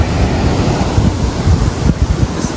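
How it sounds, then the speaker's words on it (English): Ocean waves surge steadily along a shore, a continuous roar of surf mixed with heavy wind buffeting close to the microphone, with no voices. "look at these waves coming off"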